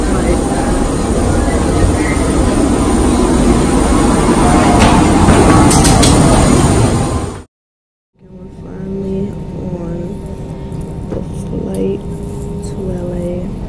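Steady airplane cabin hum and whoosh while boarding a flight, loud and continuous, then a brief cut followed by quieter cabin drone with tonal chimes. A voice talks over it.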